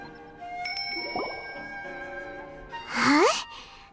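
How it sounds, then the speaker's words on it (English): A bright bell chime rings out in the video game Genshin Impact, a clear ding with a rising shimmering tail near the end, heard over faint sustained game tones. "It was the bell. The bell noise triggered a Samsara."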